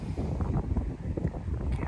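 Steady outdoor wind on a sunny, breezy day buffets the microphone with a continuous low rumble that rises and falls in gusts, and no one speaks.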